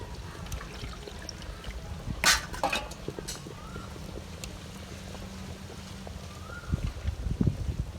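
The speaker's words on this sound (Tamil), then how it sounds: "தேங்காய் அரைச்ச தண்ணி இருக்குல்ல, அதை கொஞ்சம் ஊற்றிக்கலாம்" Water from ground coconut is poured into a simmering chicken curry, giving a soft, quiet trickle with a few sharp clinks and clatters from the pot along the way.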